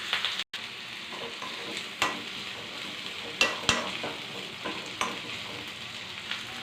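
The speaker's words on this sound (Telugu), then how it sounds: "అదే నూనెలో ఉల్లిపాయలు వేసుకున్నాము." Onions frying in oil in a pan, a steady close sizzle punctuated by periodic sharp scrapes and taps of a spatula stirring, with a brief dropout near the start and no talk.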